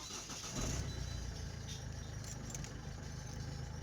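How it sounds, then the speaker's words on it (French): A Citroën C4 car engine starting, a brief cranking surge that settles into a steady low idle hum, recorded close by with no talking. "Quand je démarre la voiture"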